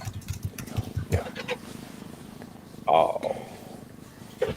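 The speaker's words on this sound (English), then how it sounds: "You purring." A low, rhythmic purring rumbles close up, while a quiet voice murmurs briefly partway through.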